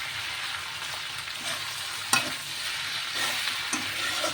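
Egg gravy being stirred in a frying pan: quiet, steady sizzling with soft scraping strokes from the spoon and one sharper clack partway through, close up with no talking.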